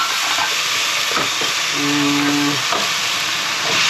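Minced garlic, about ten cloves, sizzles loudly in an overheated pot while being stirred vigorously, a dense continuous frying hiss with scraping stir strokes and a brief tonal squeal midway.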